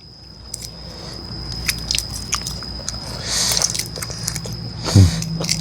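Someone eating rice by hand, with close, moist chewing and small crunchy bites over a constant background hum and a steady high whine, one louder knock near the end.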